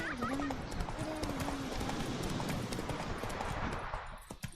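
Roach, Geralt's horse in The Witcher 3: Wild Hunt, gallops with quick, rhythmic hoofbeats, steady and fairly close, under a voice speaking over the running.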